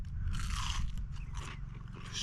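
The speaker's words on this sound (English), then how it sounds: "That batter is so crunchy." A close bite into a battered fish taco with golden fried batter, loud crisp crunching in quick repeated bursts over low chewing, with no speech.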